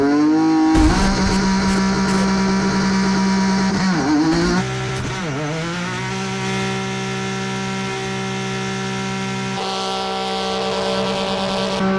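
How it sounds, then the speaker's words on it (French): A drifting car driven by Ken Block revs its engine hard, loud sustained harmonic roar with sharp pitch swoops and falls as the throttle is blipped, steady and close. "maintenant, à FastTrack.tv, driftez avec Ken Block"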